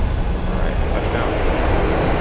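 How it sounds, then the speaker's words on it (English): A United airliner's thrust reversers roar just after touchdown, a loud broad continuous rush of engine noise heard from inside the cabin, steady throughout. "That's the reversers."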